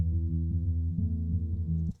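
Low, boomy rumble from an isolated acoustic guitar, heard as a warm droning throb that pulses roughly twice and then drops away abruptly, with no talk.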